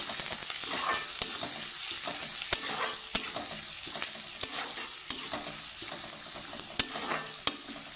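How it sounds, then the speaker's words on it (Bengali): Chopped onion lightly frying in a pan, with a steady close sizzle and repeated stirring scrapes and taps from a spatula, no speech. "পেঁয়াজটাকে আমি হালকা ভেজে নেব"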